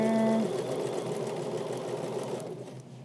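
Sewing machine running steadily as it stitches along denim jeans, a continuous close mechanical whir that holds for about two and a half seconds before easing off at the end.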